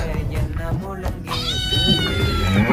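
A cat meows loudly up close, drawn-out and whining, with a second higher meow following; faint background noise beneath.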